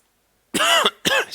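Two sharp, close coughs in quick succession break a silence, the second slightly shorter, from a presenter with a worsening cough during a live software session.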